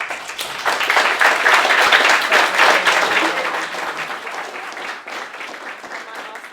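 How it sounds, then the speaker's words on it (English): An audience at a careers fair breaks into a round of applause, dense clapping that swells loudly in the first seconds, holds, then gradually thins and fades. "Round of applause."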